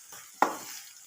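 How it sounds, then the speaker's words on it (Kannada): Whole spices, turmeric, salt and a dried red chilli frying in a pan for hotel-style vangi bath, a short stirred sizzle that swells suddenly midway and then fades, close and clear with no voices. "ಚೆನ್ನಾಗಿ ಫ್ರೈ ಮಾಡ್ಕೊಳ್ಳಿ."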